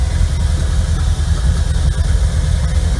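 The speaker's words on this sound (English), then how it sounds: "That means the boat's getting ready to start." A 2000 Mach One 314 combo boat's engine idles loud and close on the water, a steady low rumbling drone with slight vibration throughout and no talking.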